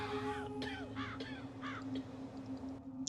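Large black crows caw in a video game, a series of hoarse calls spaced across a few seconds over a steady low ambient hum, moderately loud and slightly distant.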